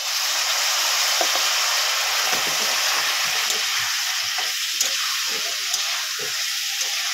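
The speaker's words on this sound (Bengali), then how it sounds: "ভালো করে এবারে কষিয়ে নেব।" Cauliflower curry sautés hard in a pan, a loud continuous sizzle and hiss with scattered soft scraping taps of stirring, no voices present.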